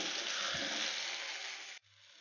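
Steady, loud sizzling of eggplant slices frying in hot oil over medium heat, cutting off abruptly near the end.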